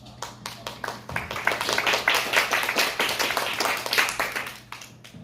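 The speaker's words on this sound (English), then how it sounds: "Let's give him a big applause" An audience applauds at an international sports conference commemorating the 1988 Seoul Olympics: scattered individual claps build quickly into steady, dense clapping that carries on for several seconds at moderate volume.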